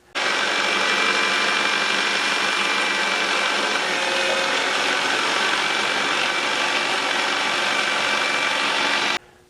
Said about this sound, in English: The biochar and the eggshells together in the food processor make some wonderful grit for the worms